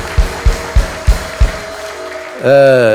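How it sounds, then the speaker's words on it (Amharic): Five evenly spaced claps in a steady rhythm at an Ethiopian wedding, then a voice comes in. "አጨብጭቡ ለእግዚአብሔር ክብር"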